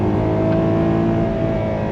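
Ferrari 12Cilindri Spider's naturally aspirated V12 accelerating, a smooth, continuous layered engine wail with steady harmonic tones, loud and close with no speech over it.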